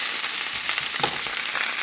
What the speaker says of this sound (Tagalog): So yan, nilagyan natin siya ng